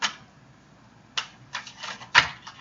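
Tarot cards are shuffled in short, crisp bursts of riffling and flicking, separated by brief pauses, close and fairly quiet with no talk.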